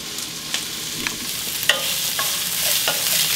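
Chopped onions, about a cup and a half, sizzle steadily in a hot pan for a vegan white chili, with brief scrapes and clicks of stirring over the continuous frying hiss.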